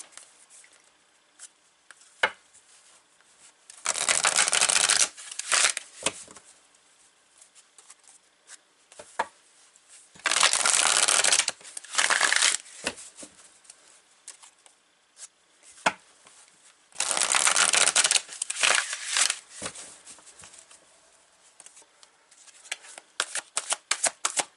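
A deck of tarot cards is shuffled close up, with several loud bursts of rapid riffling and fluttering card snaps separated by quieter handling, tapping and sliding of cards, and no talking.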